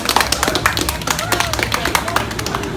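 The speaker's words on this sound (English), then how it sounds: "let's give her a round of applause" Scattered clapping from a small group at Busch Gardens Tampa Bay theme park near a roller coaster, quick uneven claps mixed with murmuring voices and background bustle.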